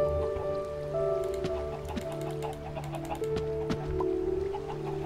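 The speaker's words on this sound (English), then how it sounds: "Oh, hey, it's raining." Rain pattering in the game Minecraft SkyBlock, a soft steady patter beneath sustained tones and intermittent clicky game sounds, moderately faint, with chicken clucks mixed in.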